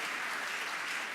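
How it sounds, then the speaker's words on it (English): Steady, dense applause from a conference audience at an opening general session, loud and sustained with no pauses and no voices on top. "Give them a round of applause, would you please?"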